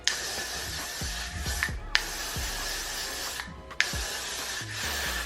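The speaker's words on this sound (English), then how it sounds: "I'm gonna be using the Got To Be Glued Blasting Freeze Spray, and I'm gonna spray it" Got To Be Glued Blasting Freeze Spray hisses onto hair in three long, steady close-up bursts, each starting with a sharp click of the nozzle, with short pauses between them.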